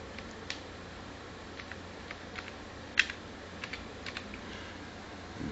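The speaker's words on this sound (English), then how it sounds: "you can just type in driver max" Light typing on a computer keyboard while setting up Windows 7, a sparse series of soft clicks and taps over steady low background hiss, faint and unhurried.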